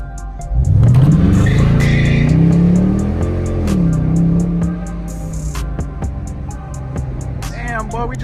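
A Dodge Charger R/T engine revs hard on a night drive, its loud pitch climbing and sliding as the car accelerates, then settling into a lower, steady drone with sharp transient clicks.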